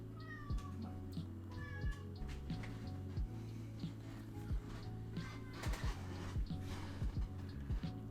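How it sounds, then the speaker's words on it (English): A house cat meows repeatedly at close range, a series of short and drawn-out cries over a steady low hum of background noise. "redeem the treat for meowing Kitty"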